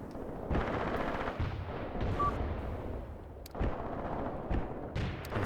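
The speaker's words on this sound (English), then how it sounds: "This is my mortars shooting, that's not incendiary." Mortar fire in the combat game Graviteam Tactics: loud, booming blasts in irregular succession, several sharp reports, each followed by a rumbling tail, with no talking.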